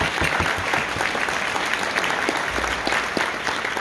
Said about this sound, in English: We should give that another round of applause.